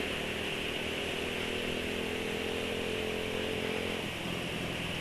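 Steady, droning engine of a Yamaha NMAX scooter with a reduced intake opening, heard from onboard while riding, with a dense buzzing whine and a slight dip in pitch near the end.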